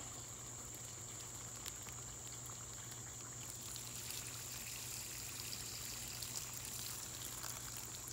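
Water poured out of a container beside a rock koi pond, a soft steady trickle and splash under a faint outdoor hum with a high insect-like whine, quiet and continuous with no talking.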